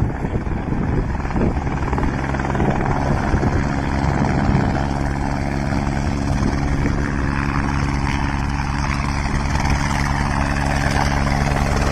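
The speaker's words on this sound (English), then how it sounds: "This helicopter picks up 4 people from the water" A rescue helicopter flies continuously with a loud, steady rotor and engine roar that holds at close range, with no voices.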